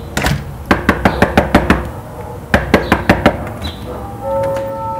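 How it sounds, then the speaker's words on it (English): Two bursts of rapid knuckle raps on a door, about seven quick knocks each, loud and close, followed by a short electronic tone. "knock on the door"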